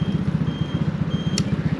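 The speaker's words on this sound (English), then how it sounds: "if that's beeping at you, you're going to turn your indicators off" Rapid, regular electronic indicator warning beeps from a Lambretta V200 scooter repeat steadily close by over a low engine hum, with one brief high chirp near the end.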